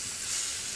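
Pieces of pork fat (salo) fry in a pan with a steady close sizzle and a brief louder spit near the end.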